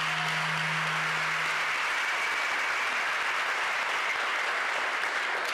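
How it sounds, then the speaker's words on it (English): Large audience at a school district state-of-schools address giving a round of applause: broad, even clapping sustained throughout, slightly distant in a big hall, with a low hum at the start. "Can we give them a round of applause?"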